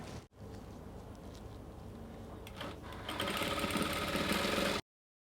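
A sewing machine stitches a dress hem steadily, its motor whirring and needle clattering, speeding up louder for the last couple of seconds before stopping abruptly.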